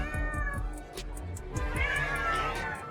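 A cat meows loudly and repeatedly, several strained, drawn-out cries close by, with rhythmic clicking sounds running underneath.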